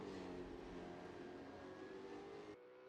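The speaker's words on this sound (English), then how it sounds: "I can hear a car revving up." A V8 Supercars race car revs at the Hidden Valley circuit, a faint, distant engine note that climbs steadily for a few seconds and then drops away.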